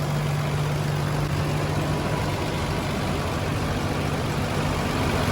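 A Toyota Land Cruiser FJ62 with a fuel-injected gasoline engine idles steadily and smoothly, a constant close rumble with a low hum and broadband noise and no voices.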